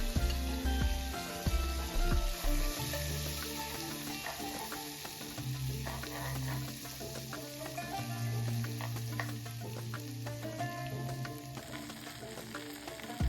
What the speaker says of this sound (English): In a pan, melt some organic butter and add ginger garlic paste.